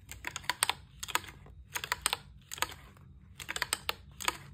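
Paper noisemaker mechanism in a pop-up book, producing quiet bursts of dry rapid clicking and rustling in short clusters, close but faint, with no talk.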